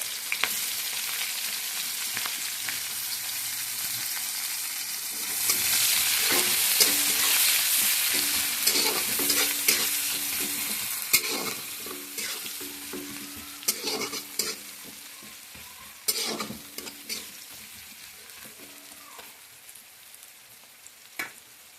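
Onions fry in oil for a cabbage and fish head curry, a steady sizzle that rises in the middle while a spatula stirs and scrapes the pan in irregular knocks and clicks, close and alone.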